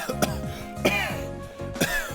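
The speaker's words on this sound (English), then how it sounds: "Why am I coughing? Because you're staring straight into smoke." A game character coughs from staring into smoke in Trails of Cold Steel: three sharp, close cough bursts spaced about a second apart, set over steady background game music.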